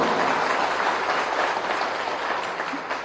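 Party workers at a BJP gathering clap together in steady, dense applause that fills the space, holding loud and even before easing slightly at the end.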